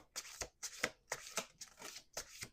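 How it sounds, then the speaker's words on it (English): Cards being riffled in several quick, close bursts, each a soft rushing flutter, with brief pauses between. "Last shuffle."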